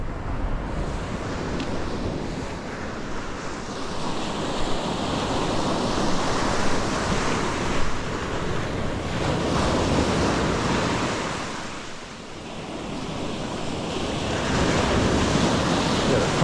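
Ocean waves wash up over beach sand, a loud, continuous surf roar that swells and recedes, with gusts of wind buffeting the microphone and no talking.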